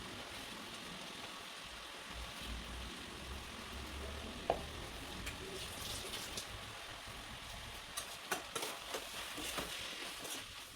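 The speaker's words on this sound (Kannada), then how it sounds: "ಈಗ ಚೆನ್ನಾಗಿ ಫ್ರೈ ಆಗೋವರೆಗೂ ಇದನ್ನ ಸ್ವಲ್ಪ ಕಲಿಸ್ಕೊತಾ ಇರಬೇಕು, ಇಲ್ಲ ಅಂದರೆ ಸಿಗೋಗುತ್ತೆ." Masala with turmeric, garam masala and salt frying in a pan, a steady soft sizzle under faint scraping stirs and a few sharper clinks of the spoon, no talk.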